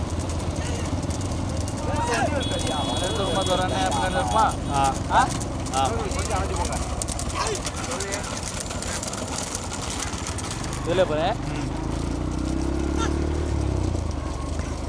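Horses' hooves clip-clop steadily in a horse cart race in Ramanathapuram district, mixed with engine rumble and crowd noise, while a commentator talks loudly over it throughout.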